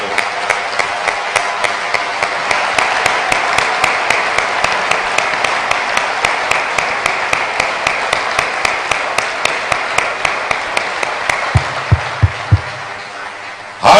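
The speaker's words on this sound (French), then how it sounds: "Applaudissons Dieu pour le don de l'évangile." A church congregation at a convention clapping in a steady, rhythmic beat, loud and unified with crowd noise beneath, carrying on for many seconds before the rhythm loosens at the end.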